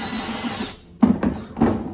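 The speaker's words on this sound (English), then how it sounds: "I'm gonna drill until my flag touches my wood." A power drill fitted with a paddle bit bores into wood. A whirring spin-down is followed by two short bursts of drilling, close and fairly loud.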